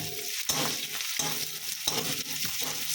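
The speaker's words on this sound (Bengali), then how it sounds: "কাঁচা লঙ্কা রসুনটা ভালো করে ভেজে দেবো।" Garlic and green chillies fry in a pan for a Bengali-style fish bhorta, a constant close sizzle broken by a few quick stirring scrapes.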